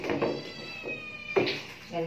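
A house cat meows, short and close, against a background of people talking nearby.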